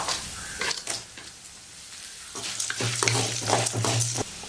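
Dried red chillies sizzle in hot oil alongside urad dal and chana dal for idli upma, a steady close frying hiss with stirring scrapes and a low hum, no voices.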